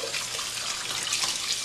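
Steady stream of cold tap water running and splashing over hot cooked nokedli dumplings, a continuous rushing wash with no voices.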